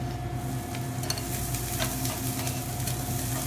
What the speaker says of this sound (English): I'm gonna saute up my onions